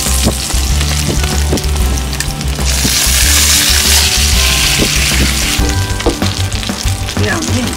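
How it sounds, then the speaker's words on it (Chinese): Chicken breast frying in an oiled pan crackles with loud, close sizzling, punctuated by clattering stirs and a low steady hum beneath. "两面煎至金黄，倒入料汁儿"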